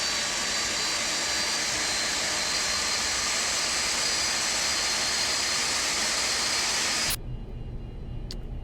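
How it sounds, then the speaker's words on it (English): Engine 4 of a Boeing 747-200 Classic spooling up during start on the ground, a loud steady jet roar with a high whine that cuts off abruptly near the end, leaving a lower rumble. "And our engine 4 is starting to spin."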